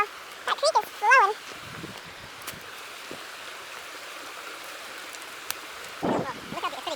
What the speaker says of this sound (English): Wow, that creek is flowing.